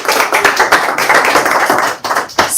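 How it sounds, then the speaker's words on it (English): A close, loud audience at a creator event applauds for DJI, with dense rapid clapping and sharp overlapping hand claps that dip briefly near the end before picking back up. "a round of applause for DJI"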